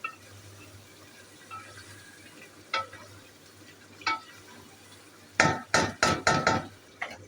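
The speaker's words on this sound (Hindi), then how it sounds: "ये टमाटर भी हमारे भून रहे हैं" Tomatoes frying in a pan for chicken karahi, faint background sizzle with a few sparse scrapes, then a quick run of five or six loud, close stirring clanks of a spoon against the pot near the end.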